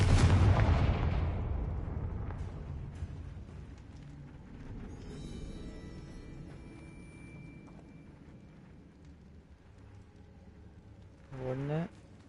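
A Confringo blasting spell from Hogwarts Legacy goes off in a loud, deep explosive burst at the start, then rumbles and fades into a long decaying tail, with a brief magical zap near the end.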